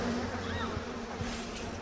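Bees buzz in the BioShock video game, a steady droning hum held close and continuous through the whole stretch with no talk over it.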